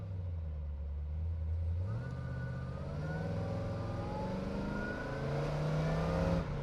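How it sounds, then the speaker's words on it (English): A 1978 Pontiac Trans Am accelerates hard, its engine note climbing steadily in pitch through the gears. The engine is heard up close from inside the car, with no talk. "it accelerates like mental, man. It accelerates like no other, really"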